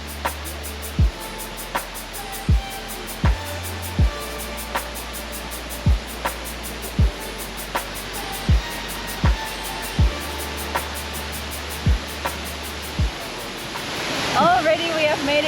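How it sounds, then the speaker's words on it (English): Benang Kelambu waterfall on Lombok, a steady broadband roar of falling water filling the whole stretch, with regular low thumps like footsteps near the microphone and a brief voice near the end. "Already we have made it down to our first waterfall."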